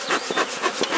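Honeybees drone in a steady, close buzz around an opened hive late on an overcast day, with the pitch wavering slightly as they move.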